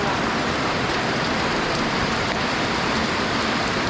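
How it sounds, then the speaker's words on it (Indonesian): Heavy rain pours steadily at a mountain campsite in Sulawesi, Indonesia, a loud, dense hiss of drops drumming on surfaces without a break. "Sesuai perkiraan tapi datang lebih cepat hujannya."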